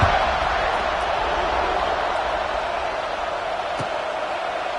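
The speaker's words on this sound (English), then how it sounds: "this crowd is buzzing after that last score" A stadium crowd at a college football game buzzes at halftime after a score, a steady, loud, dense roar that holds without a break throughout.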